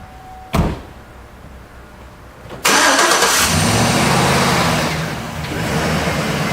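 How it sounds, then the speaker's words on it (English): A truck door thumps shut, then after a pause the engine cranks and fires up loudly, settling into a rough idle before pulling forward with a steady engine drone; drizzly weather. "I'll bring the truck in."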